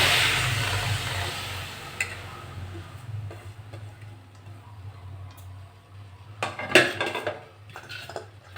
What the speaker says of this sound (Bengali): আমি আলু আর লাউটা দিয়ে দেবো।